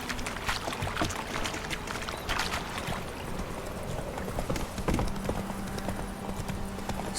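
Horse hooves clip-clopping steadily in the open-world fantasy game The Witcher 3, a continuous close, even gallop rhythm heard alone.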